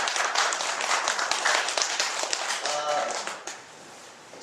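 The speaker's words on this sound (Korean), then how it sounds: "같이 박수를 쳐주시죠" An audience at a candidates' speech event for a Korean association president election claps in steady applause that fades out after a few seconds, with voices faintly beneath it.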